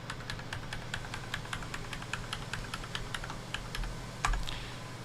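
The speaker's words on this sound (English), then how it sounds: "Then you want to type the password." Rapid, evenly spaced keystrokes on a computer keyboard as a password is typed, close and clear over a steady low background hum, with one slightly heavier press near the end.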